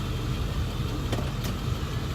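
A steady low rumble fills a car cabin on a short drive, with engine and road noise droning evenly throughout and a couple of faint brief ticks, no voices.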